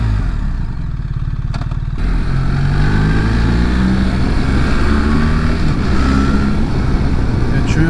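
A BMW R1300GS motorcycle ridden in Italy near Lake Como, a loud, steady engine drone heard from on the bike, with wind rushing throughout and no clear speech.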